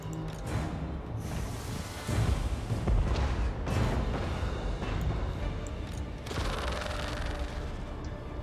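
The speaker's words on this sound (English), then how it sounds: "Those cannons will hit your Lord hard." Cannon fire and battle din from a Total War: Warhammer fantasy battle, a dense, continuous roar of booms and rumbling impacts that swells and thuds throughout, with no voices.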